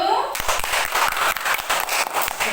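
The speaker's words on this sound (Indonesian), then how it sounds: "Ya, tepuk tangan untuk kita semua dulu" Classroom applause from second-grade pupils at an elementary school, a dense steady patter of many small hands clapping together, loud and continuous, with voices mixed in.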